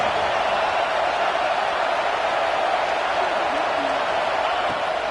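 Steady roar of a stadium crowd cheering at a college football game in a video game, a loud continuous wash of voices with no breaks.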